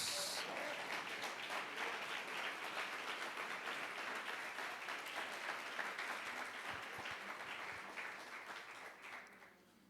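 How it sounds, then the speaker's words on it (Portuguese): A church congregation gives sustained applause to the King of Kings at an evening worship service, with dense clapping filling the room for most of the time and slowly tapering off toward the end. "dando a sua melhor salva de palmas ao Rei dos Reis"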